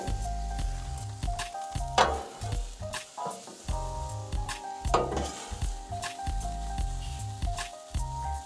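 Lobster tail with melting butter cooking on low heat on a Blackstone griddle, a continuous close sizzle with scattered crackles and pops, with no talking.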